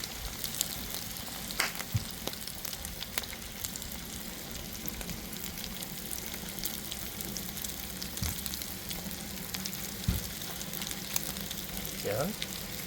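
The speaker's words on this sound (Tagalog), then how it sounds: "At ilagay naman natin ang tatlong itlog ni Kuya Jigs." Lechon pork sisig sizzles steadily in a hot pan as three eggs go in, with a constant close frying hiss, scattered crackles and occasional stirring scrapes.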